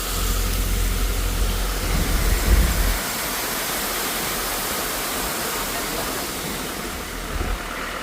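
A waterfall beside a mountain road in Uttarakhand gives a steady, broad roar of rushing water. An engine-like rumble underneath fades after the first few seconds, and no one speaks.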